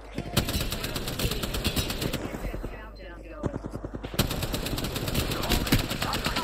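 Rapid automatic gunfire in the video game Apex Legends on PS5, dense bursts of shots with a short lull in the middle, fairly quiet and mixed with a player talking.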